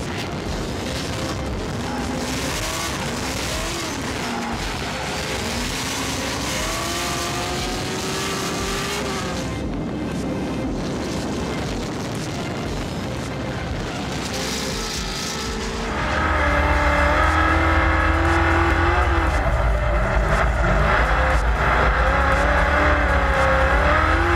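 An 800-horsepower Nissan 350Z drift car roars through its runs, the engine wailing and bouncing in pitch, moving between near and far, before a loud steady roar takes over close by.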